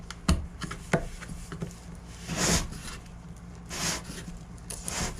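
A glued-down lid is pried open, giving scattered scraping and rubbing bursts with sharp clicks and two longer grinding strains as it works loose, close and moderately loud.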